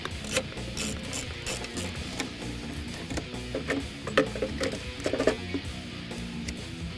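A ratchet wrench clicks rapidly in repeated bursts while removing bolts from a supercharger bracket on a 2015-2017 Mustang GT during a Roush Phase 1 kit install, close and steady throughout.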